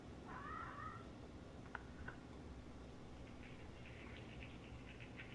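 A cat in the game Kentucky Route Zero gives a soft, short meow early on, faint over steady low background noise, followed by a few light taps and quiet high chirps.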